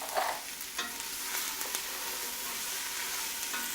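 Ingredients being stirred into onion in a pot for salmon corn chowder, a steady soft sizzle with a few scraping stirs of a spoon near the start, close and moderately quiet, no voices.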